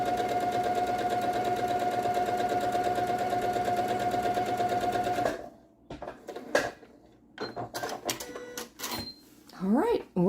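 A sewing machine stitches quilt pieces with a steady, fast, close mechanical whir for several seconds, then stops, leaving scattered handling clatter and a voice speaking.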